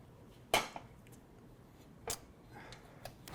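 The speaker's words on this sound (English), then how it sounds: "Now I shall trim the overhang of the tart." Knife trimming the pastry overhang from a tart case in a home kitchen, heard as a few short, crisp scraping clicks spaced across a quiet background.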